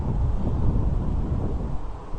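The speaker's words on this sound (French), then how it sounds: "Attention, le vent." Strong wind buffets the microphone on a street in Paris, a steady loud low roar with gusting rumble throughout and no other clear sounds.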